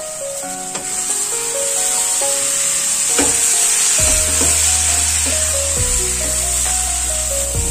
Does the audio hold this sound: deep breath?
no